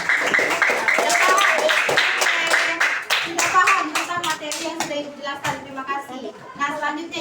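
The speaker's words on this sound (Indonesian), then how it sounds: "tepuk tangan untuk kalian" A class of children claps their hands together, a lively run of quick, sharp claps that thins into scattered, irregular claps, while a teacher and children talk over it.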